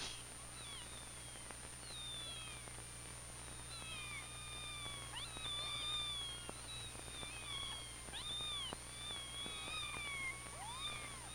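Several kittens cry with thin, rising mews, repeated in overlapping bursts over a steady background hiss from an old 1948 film soundtrack, fairly faint and without speech.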